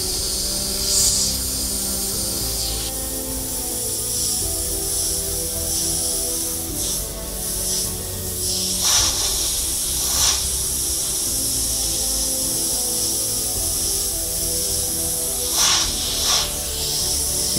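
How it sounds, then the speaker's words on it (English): An airbrush sprays paint to create a tree-bark texture, giving a soft, constant hiss at close range, with several louder short bursts as the trigger is pushed in and out. "just moving that trigger in and out, and just letting the airbrush kind of bounce around."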